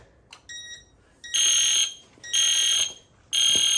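An EST Fire Shield fire alarm system blares through repeated loud electronic horn tones, with a short quiet chirp at first and then three long sustained blasts separated by brief gaps.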